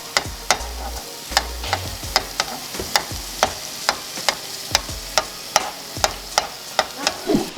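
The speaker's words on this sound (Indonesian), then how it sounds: "baru kita aduk ke semuanya." A spatula stirs cauliflower fried rice in a frying pan, keto-style nasi goreng with butter. It makes steady, evenly spaced scraping strokes about twice a second over a soft sizzle, close and clear, with no talking.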